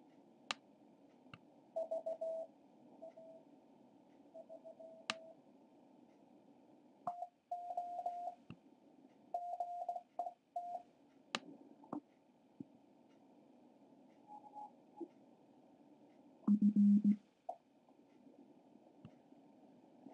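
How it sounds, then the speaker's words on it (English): CW Morse code signals come through a QS1R software-defined radio receiver as faint keyed tones, dots and dashes in irregular bursts over soft static, with one louder, lower-pitched tone near the end. "so these are CW signals"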